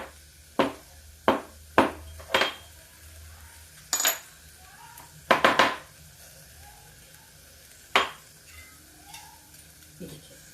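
Black pepper is coarsely crushed for a parwal (pointed gourd) dish, making a string of sharp, irregular close knocks and cracks, some in quick clusters, with quiet gaps between and no talk.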